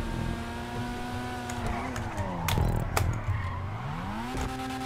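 A car sliding under the handbrake in GTA 5 Online stunt racing, engine pitch falling and rising again around a burst of tire squeal, near and prominent.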